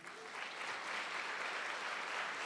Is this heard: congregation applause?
yes